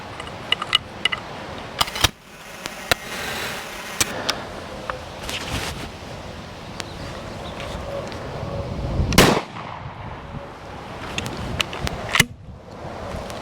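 A shotgun fired outdoors at a target 8 metres away, one sharp loud blast near the middle standing out above steady wind noise, with scattered fainter clicks and knocks around it.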